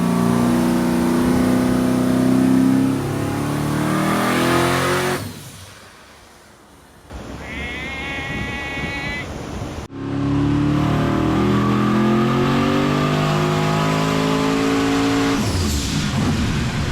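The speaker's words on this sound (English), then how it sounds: "Mark put a really big engine in his car, and it makes lots of power." A big-block engine with big turbochargers, fitted in a bus, revs hard and loud, drops away to near quiet with a brief high whine, then roars back up.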